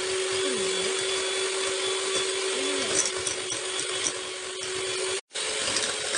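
Sugar and milk are mixed in a bowl with a steady electric mixer whirring close and continuously, with one brief cutout near the end.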